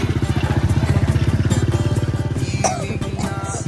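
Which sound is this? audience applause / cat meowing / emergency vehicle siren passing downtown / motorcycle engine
motorcycle engine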